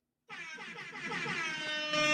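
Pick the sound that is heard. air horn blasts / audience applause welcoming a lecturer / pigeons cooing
air horn blasts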